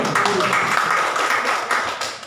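Applause from the audience at a church seminar on church unity and ministry calling, a loud, dense wash of clapping that holds steady for a couple of seconds with no talk over it.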